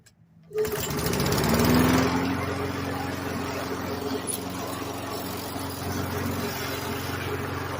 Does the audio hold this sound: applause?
no